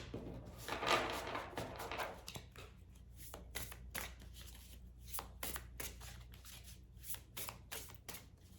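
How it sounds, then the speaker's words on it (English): Oracle deck cards are shuffled and drawn by hand, starting with a soft riffling burst and then a long run of quick, crisp card flicks and taps in an uneven rhythm, close and quiet with no talking. "Let's draw out of the last oracle deck"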